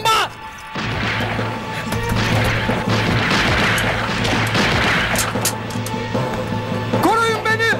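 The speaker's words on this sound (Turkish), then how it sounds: "Bomba!" A bomb explodes in a battle scene from the Turkish TV drama Kırık Kanatlar. It brings a loud crash and a sustained rumbling roar of debris and chaos, with shouting voices over it.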